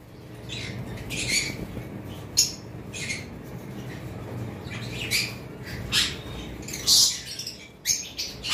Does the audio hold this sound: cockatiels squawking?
yes